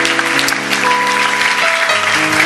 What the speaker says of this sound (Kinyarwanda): Tupigie Mungu wetu makofi.